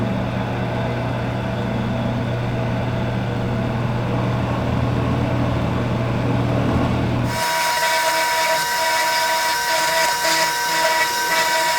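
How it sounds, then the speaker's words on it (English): A Shopsmith power drill bores a bolt hole in a workbench stringer, a loud continuous whine that shifts to a higher, harsher pitch partway through as the bit bites into the wood. "Now we'll drill this right here"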